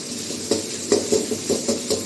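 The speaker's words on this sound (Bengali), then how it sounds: "সামান্য তেল দিয়ে দেবো, একটু আদা চপ দিয়ে দেবো, চিকেন একটু ভেজে নেব" Chicken with chopped ginger fries in a little oil for chop suey, a low sizzle broken by rhythmic clinks and scrapes of a stirring utensil against the pan.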